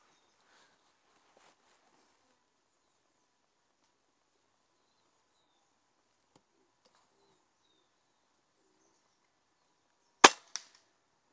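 A Diana Outlaw Gen2 air rifle fires once, a sharp, crisp crack followed moments later by a faint smaller snap, after near silence with only faint birds and insects outdoors.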